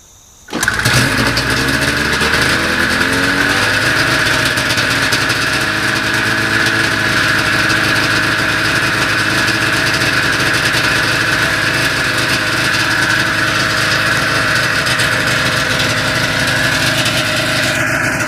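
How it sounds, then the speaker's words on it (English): A 1994 Ski-Doo Formula STX snowmobile engine cold-starts after a short quiet moment and then runs steadily at a loud, buzzing two-stroke idle for the rest of the clip, with no talk. "So that was a cold start."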